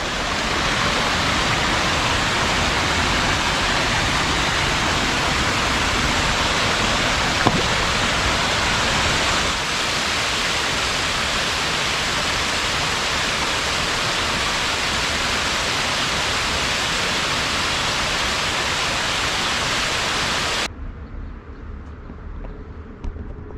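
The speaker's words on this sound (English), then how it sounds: "Okay, I'm gonna have to work for this waterfall" A waterfall in the Paradise area of Mount Rainier National Park pours with a loud, steady, close rushing roar for about twenty seconds, then cuts to a much quieter background.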